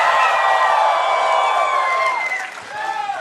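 Crowd yelling and cheering at a PAX East convention developer presentation for Mafia: The Old Country, many voices whooping together loudly and steadily, tapering slightly near the end.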